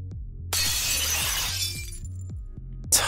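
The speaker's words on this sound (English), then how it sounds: "he ended up shattering the bottle of vintage wine meant for Tatsuya's gift" A glass bottle of vintage wine shatters in one sudden loud crash, with fragments scattering and rattling for about a second and a half before a second sharp crack near the end, all over a low steady background hum.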